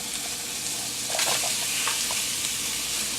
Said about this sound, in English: So I'm going to throw in my peppers and my onions.